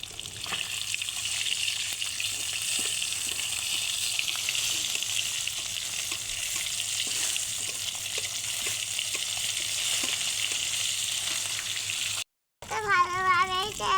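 Fish sizzling steadily in hot oil, a continuous close frying hiss with faint crackles throughout, breaking off briefly near the end before a voice is heard.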